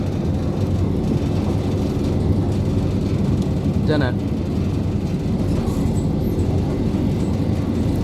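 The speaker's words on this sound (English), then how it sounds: "the train seems to be slowing down" Continuous low rumble and rattle inside a passenger train slowing as it approaches Honiton in Devon, steady and loud throughout, with a brief squeal partway through and a person murmuring a word.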